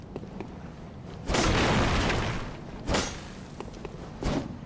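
Bloodborne character dropping from a height and landing hard: a heavy booming thud rising out of a dense, noisy game background, followed by another sharp impact and a softer thump near the end.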